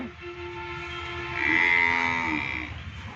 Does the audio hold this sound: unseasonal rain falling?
no